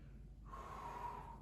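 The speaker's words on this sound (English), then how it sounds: "There's always an inhale and an exhale." A slow, steady breath during a golf fitness stretching exercise, drawn in through the nose with a faint airy hiss that rises after a quiet start and holds for about a second, close and soft.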